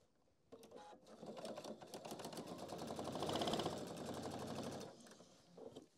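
A domestic sewing machine runs steadily for about four seconds, stitching the sides of a handbag's inner pocket, its fast needle clatter rising in the middle and then stopping, with a few brief handling noises before and after.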